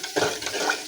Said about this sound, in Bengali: ভালোভাবে নাড়াচাড়া দিয়ে মশলাটা কষানোর জন্য